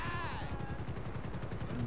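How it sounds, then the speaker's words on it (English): Rapid bursts of automatic gunfire rattle steadily in a Grand Theft Auto V game session, with a brief whistling tone at the start and a player voice briefly under the shooting. "Hostile gunfire."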